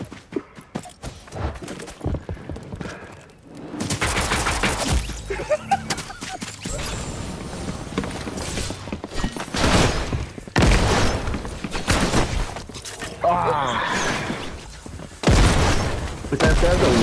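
Rapid gunfire and explosions from a chaotic multiplayer gun game, dense bursts of shots and booming blasts crowding together, loud and near, with short quieter gaps between heavy volleys.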